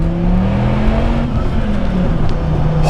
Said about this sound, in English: here's the first time I experienced this car at full throttle.